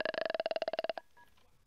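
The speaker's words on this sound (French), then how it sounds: "On va appeler Morty quand même" Rapid series of about fifteen electronic telephone dialing beeps from a phone in The Sims 2 video game, evenly paced and clear, then a short fading tone.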